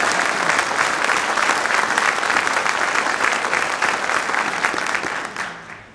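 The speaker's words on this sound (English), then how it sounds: "Yeah, you can applaud yourself." Sustained, dense applause from a large audience for a marching band being invited to London's New Year's Day Parade, steady and loud throughout before tapering off in the final second.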